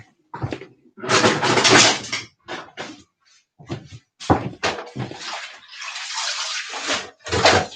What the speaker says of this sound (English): Now I'm going to wash the spinach.